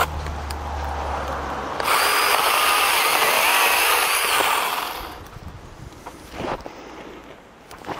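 A lightweight pole pruner cuts through branches outdoors, giving a loud, steady buzzing whine for about three seconds. A quieter motor hum comes before it, and it winds down into softer rustling with brief knocks afterward.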